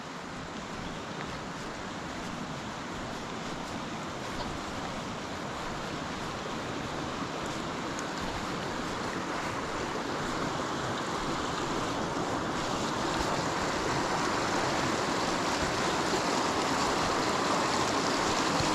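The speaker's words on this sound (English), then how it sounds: "that's where the burn's coming all the way down from" A burn flowing down near Hethpool Linn gives a steady broadband rush of running water, slowly swelling louder over nearly twenty seconds, with no speech.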